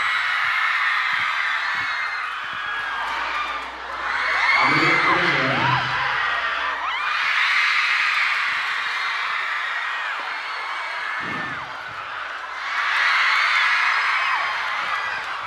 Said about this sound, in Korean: 이렇게 비트가 묻힐 정도로 환호해 주시는 분들